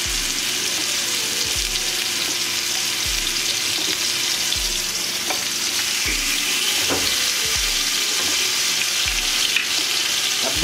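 Fish fries in a black non-stick pan, a loud, steady close-up sizzle that holds throughout with faint spatters and small clinks of a utensil now and then.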